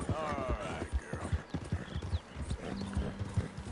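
Hooves of a Hungarian half-breed horse in Red Dead Redemption 2 clip-clop at a walking rhythm, close and distinct, with a short whinny and someone talking over them.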